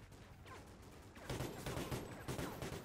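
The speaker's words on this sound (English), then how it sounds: "He's firing randomly into the bushes." Bursts of gunfire from Call of Duty: Ghosts, a run of sharp overlapping shots that grow louder and denser after a brief lull, fairly close and with no talking over them.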